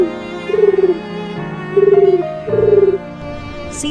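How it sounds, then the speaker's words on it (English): A dove coos three times, each a soft, breathy call with short pauses between, set against a steady background hum of other sounds. "Dove."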